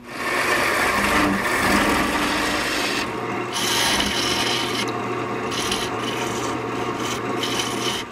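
Continuous, loud rasping and scraping as a wood lathe turns the underside of an oak burl bowl, with the tool cutting steadily for the whole stretch over a low motor hum, with a few brief dips in intensity and no speech.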